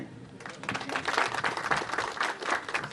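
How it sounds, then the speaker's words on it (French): An audience applauds at a signing ceremony in a rice field, a dense patter of many hands clapping that starts after a brief pause and continues steadily, moderately distant. "Je vous demande d'applaudir."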